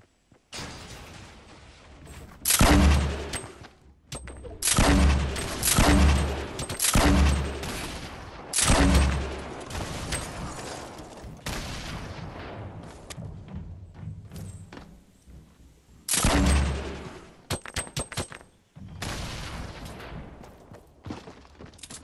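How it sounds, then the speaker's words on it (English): Grenades fired into the ground floor of a building in Fortnite: a series of loud, booming blasts in quick succession with thuds and crackling debris, then a pause and a second burst of explosions near the end. "Okay, I'm firing grenades into the ground floor."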